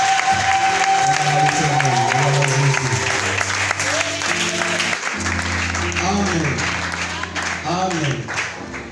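Church congregation applauding to acclaim God, sustained clapping and crowd noise filling the room while a voice speaks or sings over it with tonal held notes.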